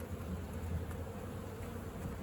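Honeybees drone at a hive during a colony merge, a steady low buzz close by with no talk over it.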